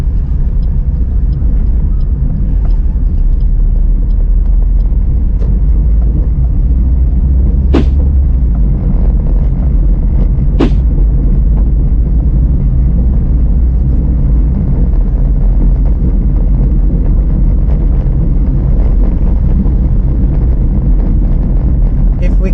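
Car interior rumble while driving in heavy weekday traffic on the Cagayan de Oro National Highway, a continuous low drone with wind buffeting and a couple of sharp brief clicks, no voices heard.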